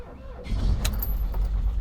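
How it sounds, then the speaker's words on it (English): A Volkswagen camper engine cranks and quickly catches, settling into a close, rumbling run. Keys jangle briefly as it starts. "we gotta see if it runs."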